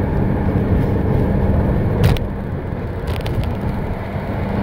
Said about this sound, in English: Well, it's loaded with traffic, unfortunately.